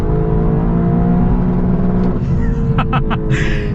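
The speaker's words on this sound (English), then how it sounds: "let's start things off by getting a little acceleration and having it bounce off the rev limiter" A 2026 Lexus LC 500 engine holds a steady drone under a voice, then revs sharply and bounces off the rev limiter in a few quick, loud stuttering bursts near the end.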